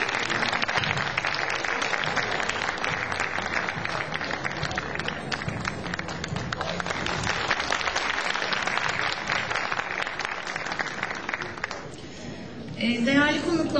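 Sustained audience applause in a concert hall as Niyazi Sevinci is invited onto the stage at a municipal Turkish classical music choir honor concert, dense steady clapping that stops near the end as a voice begins.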